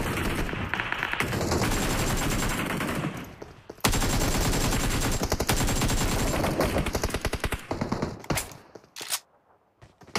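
Rapid automatic gunfire in the battle royale game BGMI rattles in long, loud, close bursts with a brief lull near four seconds, then tapers into a few scattered shots and quiet at the end, with no talk.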